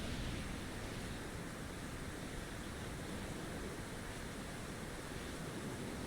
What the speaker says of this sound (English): this is causing both ships to be directly hit by the waves, which is in turn causing them to jump